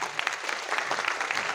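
An audience at a business seminar gives dense, steady clapping for a short stretch, loud and close, with no voices over it.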